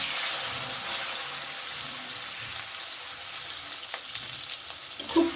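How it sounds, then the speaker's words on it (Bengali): Ground prawn paste sizzles and fries steadily in a pan with black cumin seeds, a dense continuous hiss with a few stirring scrapes near the end and no talking. "দিয়ে দিচ্ছি বেটে রাখা চিংড়ি মাছ"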